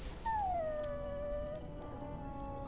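A dog in Dragon Age: Origins lets out a long, drawn-out whimpering whine that slides downward and trails off, heard close and clear over quiet game ambience with no talking.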